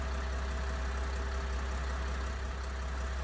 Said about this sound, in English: Leave the engine running though